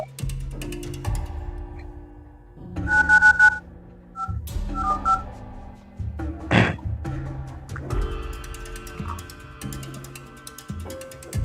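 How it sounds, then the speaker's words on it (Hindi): A phone sounds an incoming call with short electronic tone bursts and beeps, heard over a steady musical background in a Hindi suspense short film scene. "भैया का फोन आ रहा है, भैया का"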